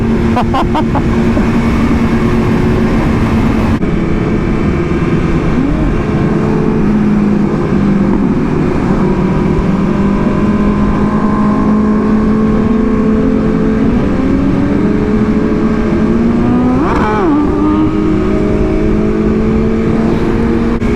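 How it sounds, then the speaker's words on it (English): Motorcycles pulling up at a large motorcycle meet in Atlanta, engines idling and revving loudly and continuously up close, with a burst of throttle near the end. "Alright, some more bikes just pulled up."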